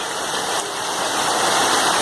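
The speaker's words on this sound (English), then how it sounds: "Hailstones about the size of peas." Pea-sized hailstones fall on a yard in spring, a dense, steady patter and hiss with no talk over it.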